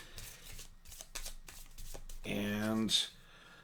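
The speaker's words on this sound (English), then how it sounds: "I might have to kind of riffle shuffle this one up." A deck of game cards is riffle shuffled, a rapid fluttering rattle of cards riffling together close up, heard over a voice that continues through the clip.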